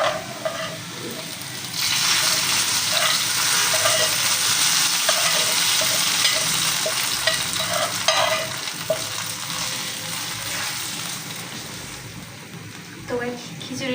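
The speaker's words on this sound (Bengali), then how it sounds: "এখন আমি এটাকে বাগার দিয়ে নিব।" Boiled khichuri is tempered in hot oil: a loud, close sizzle surges in and keeps hissing and crackling while it is stirred, then eases slightly toward the end, with a voice faintly present at times.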